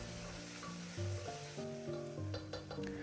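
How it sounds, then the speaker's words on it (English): Browned onions cooking with ginger garlic paste and slit green chilies are stirred in a pan, a quiet continuous sizzle with light scraping strokes toward the end, no voices. "I'll mix it very well and then add the spices."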